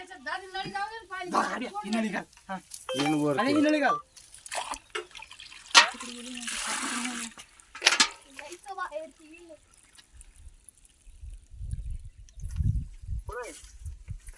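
Water runs and splashes from a hose into a bathroom pipe where a cobra is hiding, while people shout and talk close by; the flow becomes a softer gush toward the end.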